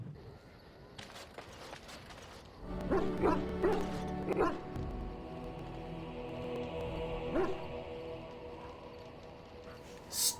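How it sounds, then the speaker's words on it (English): A dog barks and yips in a quick burst of several sharp barks, then a lone bark later, close by over a low background hum, in the video game Dragon Age: Origins. "Stop barking."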